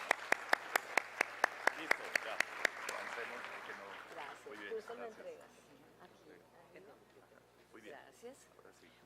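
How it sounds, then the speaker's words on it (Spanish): Applause at an infrastructure conference: crisp, rhythmic clapping for about three seconds that quickly dies away, followed by quiet murmuring and people talking in the hall. "Un aplauso para él."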